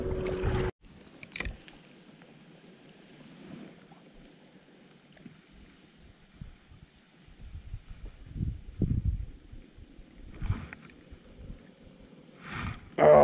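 Gusty wind buffeting a fishing kayak on open water, low rumbling roar swelling and fading, with occasional splashes and handling knocks close by.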